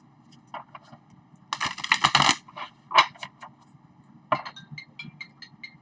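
Tarot cards being shuffled during a live reading, giving soft rustling and riffling bursts with brief card snaps, loudest in a dense flurry midway, over a faint steady background hum.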